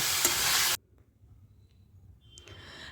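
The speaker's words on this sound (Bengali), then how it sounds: "এবার নুন মাখানো আলুগুলো দিয়ে দেবো দিয়ে হালকা করে ভেজে নেব" Salted potatoes hit a pan of hot oil with a loud, dense sizzle that cuts off abruptly after under a second, leaving only a faint low rumble and a small clink near the end.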